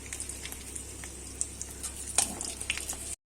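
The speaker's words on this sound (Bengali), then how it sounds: "চিংড়ি মাছগুলো একটু লাল করে ভেজে দিয়ে দেবো 2টো শুকনো লঙ্কা" Prawns frying in hot oil with two dried red chillies, a steady soft sizzle with scattered small pops and crackles throughout.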